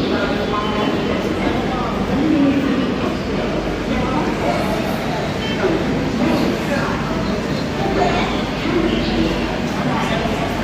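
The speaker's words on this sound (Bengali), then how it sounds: "এই যে আমাদের বন্দে ভারত স্টেশনেই দিয়ে দিয়েছে" A Vande Bharat Express sits at a railway station on the Shirdi to Mumbai route, with a steady loud rumble of train and platform noise running throughout while a person talks over it.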